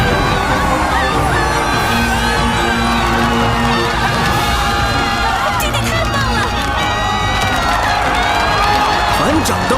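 A crowd cheers and whoops for a newly named alliance leader at a ceremony, a loud sustained roar of many voices with shouts rising out of the din.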